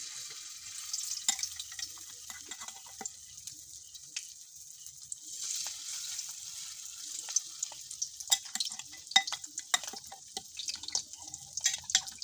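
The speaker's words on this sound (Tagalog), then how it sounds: "So, mag-umpisa na ako magprito." Chicken pieces frying in a preheated pan of hot oil, a steady bright crackling sizzle with scattered sharp pops and spits, fairly close and continuous without talk.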